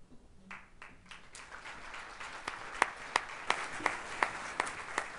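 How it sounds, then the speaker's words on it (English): Audience applause at a university distinguished alumni awards ceremony, building from a few scattered claps into a steady crowd of clapping with sharper individual claps standing out, moderately near. "You should hold your applause."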